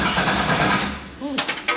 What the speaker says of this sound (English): Start cranking it over. Keep going.